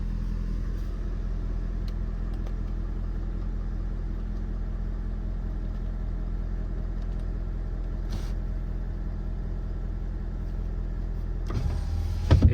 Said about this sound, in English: I'm going to take the truck for a quick spin.